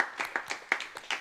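A small church congregation claps briefly for a newly baptised young woman during a Sunday worship service, scattered hand claps in quick bursts, fairly close and moderately loud.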